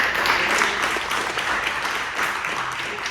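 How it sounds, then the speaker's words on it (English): A tech meetup audience gives a pitch presenter a round of applause, with steady, dense clapping close by throughout the short stretch. "Let's give him another round of applause."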